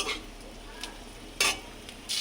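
Ridge gourd and potato fry in a pan with a low sizzle, broken by a few quick, bright scrapes of a spatula stirring the pieces.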